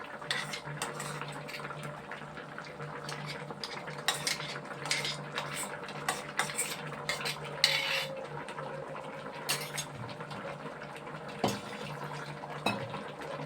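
A spoon mixing ground gongura paste into a curry in a pot, with intermittent clinks and scrapes against the metal over a low steady background, close by and without speech.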